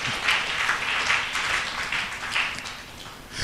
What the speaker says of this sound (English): Clap to the Lord.